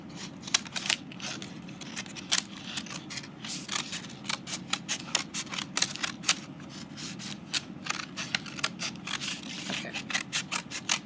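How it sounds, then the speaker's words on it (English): Scissors cut through kite material in a steady series of sharp, close snips and crunches, a quick irregular rhythm of blade closures over a faint background with no talking. "Maybe if I cut it the other way, it would be easier."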